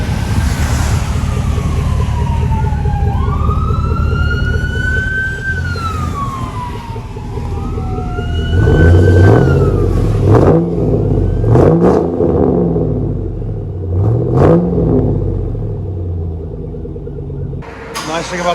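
A 2000-2006 Chevy Silverado 5.3L V8 with Flowmaster Flow FX mufflers, its exhaust revved in several deep, swelling bursts in the second half, under a high wavering tone early on.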